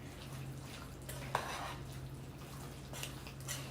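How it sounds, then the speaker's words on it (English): A corn and yellow rice casserole being stirred in a sprayed pan, with soft scraping and an occasional utensil clink against the pan, faint and intermittent. "I'm mixing it up real good"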